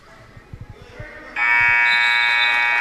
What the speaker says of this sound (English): Five seconds before the buzzer.